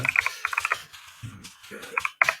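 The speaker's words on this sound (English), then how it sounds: "Sorry about my keyboard, by the way." Typing on a computer keyboard, close and crisp, with quick bursts of clacking keystrokes separated by brief pauses and a final cluster of louder taps.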